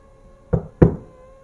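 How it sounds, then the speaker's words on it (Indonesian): Two sharp, close knocks on a door, about a third of a second apart, used as a sound effect in a horror story narration; each is loud and dry and sounds over a quiet background hum with no talk. "Terdengar lagi suara ketukan itu sebanyak 2 kali."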